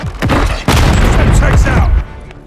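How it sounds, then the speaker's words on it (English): In Call of Duty: Modern Warfare III, a stun grenade goes off with a sharp, loud bang. Gunfire and other battle noise crowd around it through the short burst. "Throwing stun grenade!"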